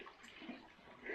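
A thin trickle of water runs through the Höllentalklamm gorge in the Alps, a soft continuous rushing wash with no clear drops or pauses, steady and fairly quiet with no talk over it.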